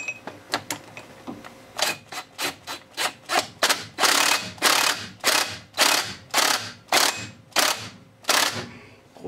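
An old rusty socket wrench ratchets repeatedly while cracking loose a bolt on a Yamaha 15 HP two-stroke outboard, giving a loud, close series of about a dozen rhythmic clicking strokes with a few lighter clicks first.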